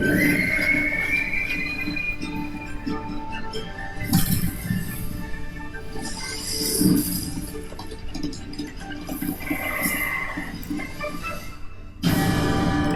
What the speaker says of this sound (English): And the damn horse gone.